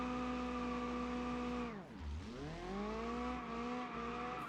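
In BeamNG.drive, an ultra-long stretched Pigeon car drifts donuts, its engine revving loud and steady, dipping briefly mid-spin and then climbing again, with faint tire noise underneath.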